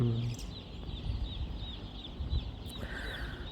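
Newly arrived chickens from separate flocks cluck and chatter inside a poultry farm, with scattered clucks over a constant low barn din, moderately close and without speech.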